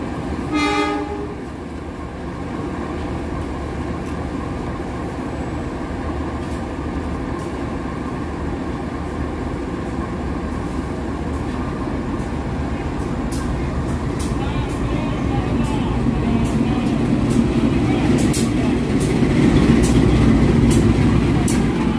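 A local Bandung Raya train arrives at a station platform, a steady loud rumble of rolling wagons building as it comes nearer, with horn blasts sounding throughout.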